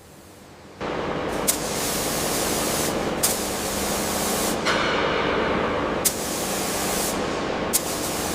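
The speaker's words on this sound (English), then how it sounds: "Keep the pressure steady on the spray gun." Spray gun laying down high-gloss paint on a monster truck restoration, a steady, loud, unbroken hiss that runs close and constant with brief clicks at intervals and no talking.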